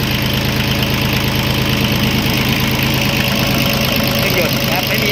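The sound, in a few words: Yanmar YM2001D tractor diesel engine idling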